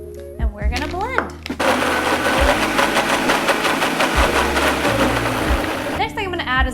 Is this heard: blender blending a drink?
yes